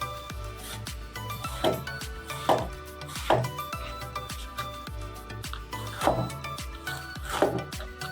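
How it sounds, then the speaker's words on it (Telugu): Knife chopping peeled ridge gourd into thin pieces on a cutting board, a steady series of sharp, close knocks with a few louder strikes, no talking. "ఇలా పీల్ తీసేసినాక వాటిని సన్నగా కట్ చేసుకోవాలండి"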